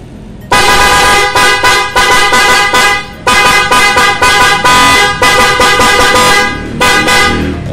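The stock horn of a Honda PCX 160 ABS motorcycle blares loud and close in a series of sustained honks separated by brief gaps, with no talking.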